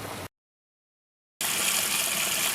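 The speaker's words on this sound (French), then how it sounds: "On le rince à l'eau froide." Blanched cabbage for a potée auvergnate is rinsed under a cold running tap. A brief rush of water breaks off into silence, then a strong, steady gush returns.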